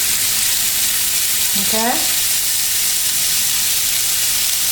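Shrimp frying in a pan, a loud, constant, close sizzle with a brief spoken word in the middle.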